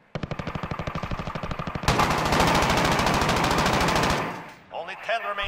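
Gunfire from a Fennec SMG in Call of Duty Warzone: a fast, steady automatic burst gives way to a louder, continuous roar of fire that fades near the end, followed by brief game sounds.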